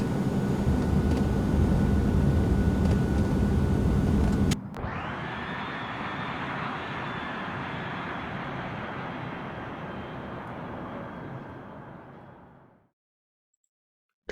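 Jet engine of an Eclipse 550 private jet in the X-Plane 11 flight simulator, a steady whining hum with a high tone that drops in level after an abrupt cut, then holds and fades out to silence.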